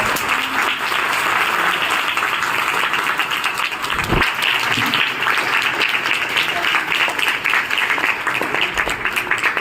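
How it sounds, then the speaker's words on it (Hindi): A crowd at a religious festival gathering gives loud, sustained applause, dense clapping that holds steady throughout, with a voice briefly heard beneath it. "जोरदार ताली बजाएंगे"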